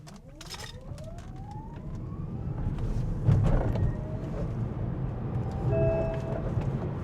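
An MG ZS EV electric SUV pulls away hard in sport mode, its motor whine sweeping upward in a rising tone over steady road and tyre rumble that swells through the run.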